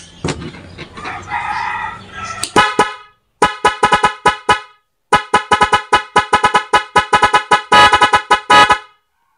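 Honking from a car's double contact stock horn and dual horn setup on mode 4: a rapid sequence of loud, short blasts in musical rhythmic patterns, with brief pauses between bursts and a denser run of honks near the end.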